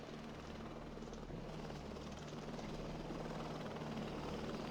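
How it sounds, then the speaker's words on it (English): A helicopter droning steadily overhead as a sound effect in a Cyberpunk Red tabletop roleplaying game, a loud continuous rotor thrum and whine that holds at an even level with no speech. "Yeah, you guys hear that helicopter."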